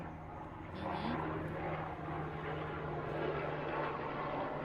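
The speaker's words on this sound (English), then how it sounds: "Helicopters." A helicopter drones steadily overhead with a low rumbling hum, faint and distant, carrying on without a break.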